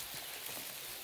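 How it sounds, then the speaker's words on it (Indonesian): Heavy rain falls steadily on an oil palm plantation during harvest, a dense, even hiss with scattered drops pattering close by and no speech. "Dikarenakan hujan ini teman-teman, besar sekali hujannya"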